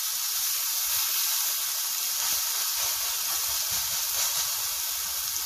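A steak frying in a hot pan sizzles steadily with a dense, continuous hiss and crackle, loud and close throughout, with no talking over it.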